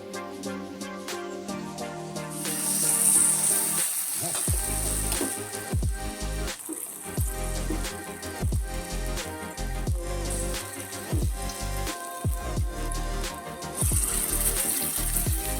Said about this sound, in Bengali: আমি বড়াটাই হচ্ছে সর্ষের তেল দিয়ে ভাজবো